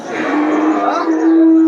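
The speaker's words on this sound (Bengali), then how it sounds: "দেশি সার গরুটা আমরা দেখিয়ে দিই এই যে এই গরুটা" A local bull at a Shajonpur livestock market gives a single sustained, nasal low, close and fairly loud, ending in a steady held tone.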